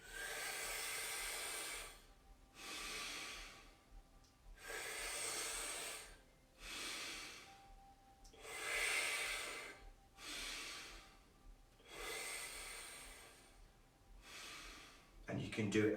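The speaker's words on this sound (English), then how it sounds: "pursing your lips as if you're whistling, but you're breathing in, and then you're breathing out through the nose" Slow breathing drawn in through pursed lips and let out through the nose, repeated about seven times in an even rhythm, each airy hiss close and clear with short quiet gaps between.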